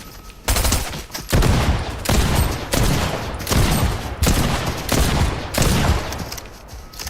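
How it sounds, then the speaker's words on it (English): A sweeper shotgun fires in Fortnite during a boss fight, loud close blasts landing about every seven-tenths of a second in a steady run, each with a short decaying tail. "Using the great sweeper shotgun that I have to get this boss eliminated"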